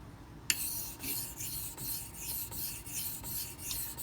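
A knife blade is drawn over Pride abrasive water stones in steady, rhythmic rasping strokes, about eight close, even passes after a sharp first contact.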